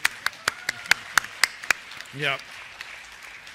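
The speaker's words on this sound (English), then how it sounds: "round of applause, thank you." A small audience at a healthcare conference gives a brief round of applause: a handful of sharp, spaced claps close by that quickly die away, followed by a short spoken word.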